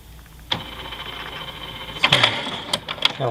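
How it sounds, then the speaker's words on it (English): An HP OfficeJet 5740 printer prepares and calibrates during setup. A steady motor whir runs under a sharp clunk, then a cluster of clicks and clacks from the moving parts, close by with no talking. "Preparing the printer."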